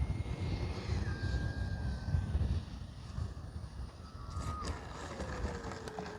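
An FMS Super Scorpion V2 90 mm RC jet flies overhead, its ducted fan making a steady whooshing whine with pitch sweeps as it passes, mixed with gusty wind noise on the microphone.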